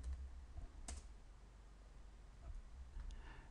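Quick bursts of key presses on a computer keyboard as a password is typed, close and quiet, with irregular clicking rhythm and brief pauses, no voices.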